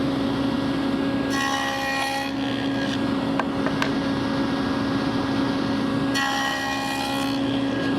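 A table saw fitted with a dado blade spins at a steady whine while cutting wood, with two rougher bursts of cutting noise as the workpiece is fed through, close and loud.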